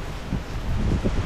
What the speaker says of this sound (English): You can see it is a little bit windy,